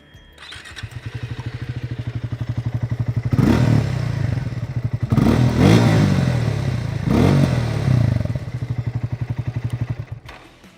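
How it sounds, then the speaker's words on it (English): Triumph Speed T4 motorcycle exhaust, a steady bass-heavy burble at idle that swells into two loud throttle blips before settling back to a lumpy idle, recorded close with no talking. "Let's listen to the exhaust note."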